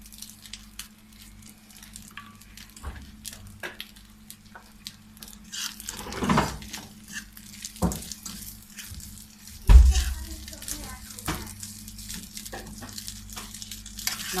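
Egg fried rice fries in coconut oil over a high flame, a low steady sizzle near the pan with occasional stirring clatter and a louder knock partway through, no talk.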